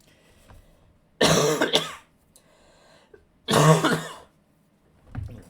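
Two harsh, heavy coughing fits from a person close to the microphone, each lasting about a second, with a smaller cough starting at the end and quiet in between.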